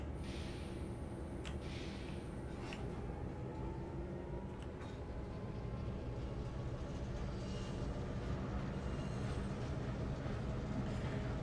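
A Caltrain MP15DC diesel switcher locomotive reverses in Train Sim World 2020, giving a quiet, steady low engine rumble with a few faint clanks and knocks early on and no talking.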